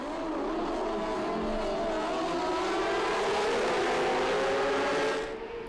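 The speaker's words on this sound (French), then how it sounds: "Et sur l'extérieur de la piste, il y a eu un très gros départ de Valentin Debise" Racing motorcycles at the start of a French superbike race at Ledenon, a loud massed engine roar with rising pitch sweeps as the pack accelerates away, fading slightly at the end.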